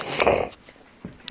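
A short, rough dog growl up close at puppies, followed by a couple of faint snorts and breaths.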